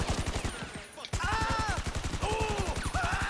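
Sustained automatic gunfire in GTA 5 Online as a whole magazine is emptied in one long burst of rapid, evenly spaced shots, loud and close, with a brief pause before the firing resumes and game sound effects layered over it.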